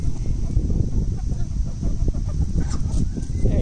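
Chickens cluck and murmur close by in a farmyard on a sunny morning, with soft overlapping clucks and rustling continuing steadily throughout.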